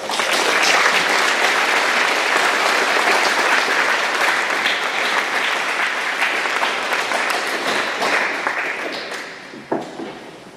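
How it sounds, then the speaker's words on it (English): Dense, loud applause from a school graduation audience thanking a slideshow creator. It holds steady for about nine seconds, then thins out with a few last scattered claps. "Let's give her a little round of applause."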